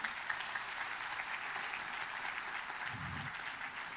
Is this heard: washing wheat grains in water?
no